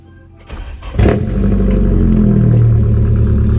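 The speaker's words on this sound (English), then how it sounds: "See how quick it started up right away." A 1989 Nissan 240SX with a new ISR exhaust cranks briefly, catches within about a second, and settles into a loud, steady, rumbling idle close by.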